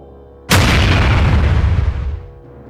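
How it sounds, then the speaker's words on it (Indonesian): A sudden loud explosive boom erupts, then a roaring, rumbling blast that sustains for over a second before fading away. "Tanah di bawah kaki Krepa retak saat energi bayangannya meledak keluar."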